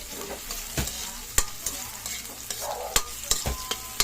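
Tomatoes sautéing in a hot pan with green chili, a steady sizzle broken by several sharp scrapes and clacks of a stirring utensil against the pan, close and clear with no talking.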